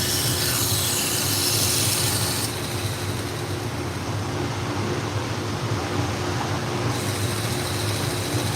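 A knife is sharpened on a clamp-style sharpening system, the stone drawn along the blade in a steady, continuous gritty rasp that runs at an even level throughout, with a bright hiss that thins briefly in the middle.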